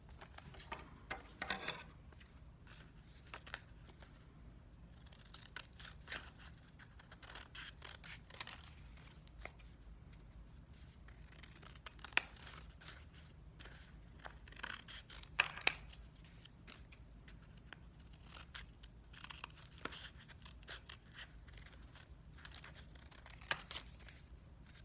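Scissors snip through folded paper for a craft garland in a series of sparse, crisp cuts with soft rustling and handling between them, close and fairly quiet.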